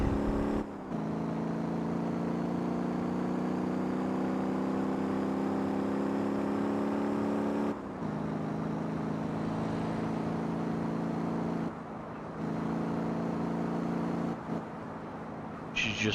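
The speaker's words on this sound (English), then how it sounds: "Let me know if the engine noise is too loud" A truck engine idles and runs steadily in the Motor Town driving game, a loud continuous droning hum with harmonic tones, briefly dipping around the eighth, twelfth and fourteenth seconds, with no talking over it.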